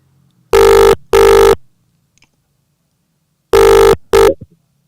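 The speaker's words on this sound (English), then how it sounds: "It's ringing, Leigh." A telephone rings in two short double bursts separated by a long silent pause, loud and close, with no talking.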